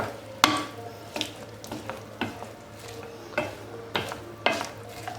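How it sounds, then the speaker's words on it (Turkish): Onions and peppers sauté over medium heat in a hot pan for sac kavurma, a soft steady sizzle punctuated by sharp clacks of a spoon stirring and scraping every second or so. "Soğan ve biberler ufalana kadar biraz kavuracağım."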